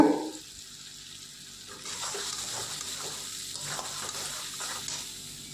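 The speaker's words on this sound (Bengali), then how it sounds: "দিয়ে কড়াইতে ভালো করে এটা এখন কষতে থাকবো" Ground spice paste fried and stirred in a wok for a Bengali doi katla fish dish, a steady close sizzle with scraping stirs that grows louder partway through.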